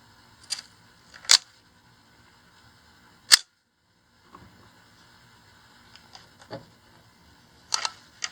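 A 35mm Nikon F2 SLR camera fires its shutter with sharp mechanical clicks, several isolated snaps separated by near silence and faint handling.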